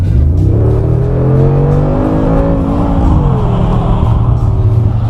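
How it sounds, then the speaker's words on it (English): A 2018 Mercedes-AMG G63's 585-horsepower 4-liter bi-turbo V8 revs and accelerates steadily, heard loud and continuous from inside the car, its deep note rising and settling. "This one offers a 4-liter V8 bi-turbo engine offering 585 horsepower, which sounds great even from inside the car."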